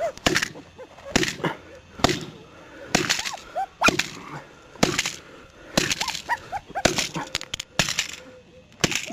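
A hammer strikes a hard disk in a series of sharp, loud impacts at an irregular rhythm, with dog whimpers and yelps heard between the blows.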